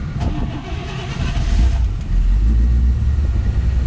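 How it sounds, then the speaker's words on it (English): A frame-off restored 1957 Chevrolet 210 two-door sedan with fuel injection cranks briefly, then catches and settles into a loud, steady, close-up idle rumble. "Vehicle starts right up."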